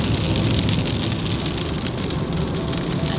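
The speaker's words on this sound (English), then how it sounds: "I've never been in Idaho with rain before." Rain falls steadily on a road trip through Idaho, a continuous hiss of drops and patter with low road rumble beneath and no talk.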